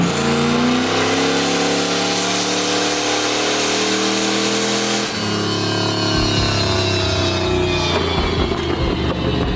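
A nitrous C5 Corvette engine revs loudly and steadily on a dyno during tuning, a sustained roar with a shift in pitch midway, close and dominant throughout.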